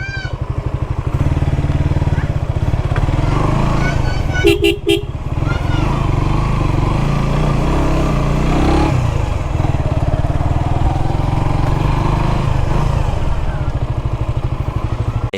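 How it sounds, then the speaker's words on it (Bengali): Motorcycle ridden through a busy Bangladeshi road between Bogura and Dhunat, its engine droning steadily and close throughout, with a burst of horn toots near the middle and traffic noise around. "আমি ভিতর দিয়ে বাইক রেখে আসি"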